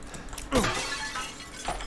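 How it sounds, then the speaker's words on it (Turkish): An object shatters in the video game Resident Evil Village, a single sharp glassy crack with scattered falling fragments, heard up close over a quiet game background. "Kırılan başka bir şey"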